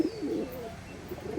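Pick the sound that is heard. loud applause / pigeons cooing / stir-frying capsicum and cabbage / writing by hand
pigeons cooing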